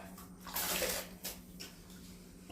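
Rice tipped into a pot of rolling boiling water, a rushing splash of grains and water with a steady bubbling undertone, close and moderately loud, no voices.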